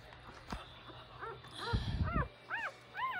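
High, thin squeaks and whimpers from a puppy in a litter of six repeat in short rising-falling cries, fairly close, with some rustling and low noise between them.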